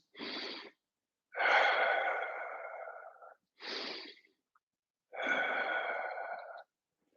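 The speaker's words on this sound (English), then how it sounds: "If you've lost your ujjayi breathing, just gently come back to it." Ujjayi breathing in a vinyasa yoga session: four close, audible breaths alternating short and long, each a soft, throaty, ocean-like hiss, separated by clear pauses of silence.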